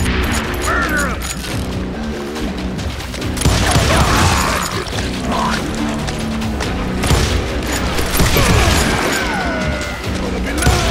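Gunfire in the Western shooter Call of Juarez Gunslinger, a steady run of loud shots, booms and crashing impacts across the stretch, with voices shouting amid the fighting.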